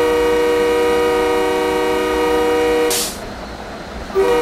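A locomotive horn on a long eight-car special passenger train blows one loud, sustained blast for about three seconds and then cuts off, leaving the rumble of the moving train.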